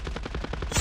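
Gunfire in the video game Call of Duty Mobile: a quick, even run of about ten automatic shots in under a second, close and fairly loud, ending in a heavier blast.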